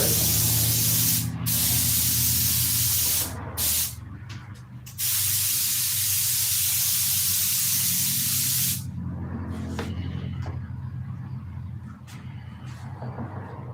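Paint spray gun spraying thinned paint in sustained loud hissing bursts, with brief cutoffs as the trigger releases, then quieter intermittent spraying toward the end.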